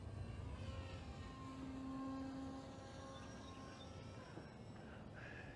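Steady whine of an E-flite Micro Draco, a small electric RC model plane, flying a roll; its motor and propeller drone holds at a moderate distance with slowly shifting pitch, with no talking.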